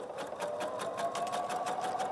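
Sewing machine fitted with a zipper foot stitching at a reduced speed, a steady rapid mechanical whir with even needle pulses running throughout, close and alone.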